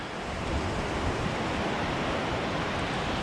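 Surf washing onto the beach at Fairbourne, a steady broad roar of breaking waves with wind buffeting the microphone, continuous and fairly loud throughout with no voices.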